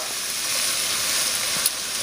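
Onions for sausage and peppers fry in a pan with a loud, even sizzle close by, broken by a couple of brief crackles near the end.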